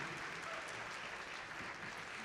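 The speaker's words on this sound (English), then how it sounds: "please give your volunteers a huge round of applause" A crowd claps for the event volunteers at an opening ceremony of a district competition in Statesboro, a dense, steady round of applause filling the whole moment.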